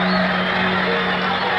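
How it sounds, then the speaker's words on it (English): Boxing arena crowd roaring and crying out in a dense, continuous wall of cheering, loud and sustained with scattered whoops, during a late round with under a minute left in the fight. "Cries are out of all proportion, quite frankly, to what's happening in the ring in this round"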